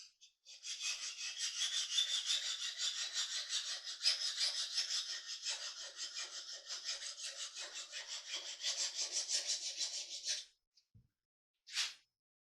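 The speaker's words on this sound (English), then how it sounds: "So I'm working a bevel on it with a file" A hand file works a bevel into a tough Damascus steel knife blade, producing a rhythmic rasping of steady back-and-forth strokes for about ten seconds, then stopping, followed by a couple of faint knocks and a short scrape.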